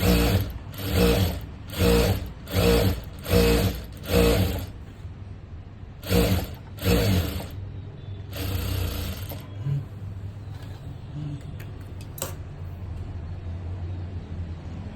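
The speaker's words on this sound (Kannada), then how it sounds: "ಫೋಲ್ಡ್ ಮಾಡ್ಕೊಂಡು ಸ್ಟಿಚ್ ಮಾಡ್ತೀನಿ" Sewing machine stitching a folded blouse sleeve, several rhythmic whirring bursts of rapid stitching with pauses between, close and loud, followed by quieter handling of fabric.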